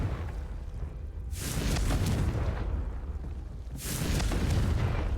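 Two Confringo blasting spells explode in Hogwarts Legacy, each a loud, broad roaring burst about two seconds apart, sustained and rumbling with no talk over them.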